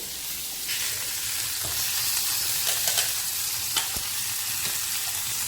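Rosemary and garlic marinated lamb chops frying in a pan, with a steady, close, loud sizzle and a few brief crackles and pops.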